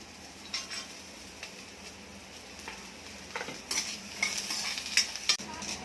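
Onion and grated coconut frying in a pan, with the onion cooked until dark: a low, steady sizzle with occasional stirring scrapes and clinks that grow sharper toward the end.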